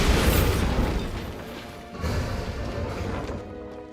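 Bombarda blasting spell in the game Hogwarts Legacy, a loud crashing boom at the start that decays into a rumbling tail, followed by a second swell of debris-like crunching and thuds before fading.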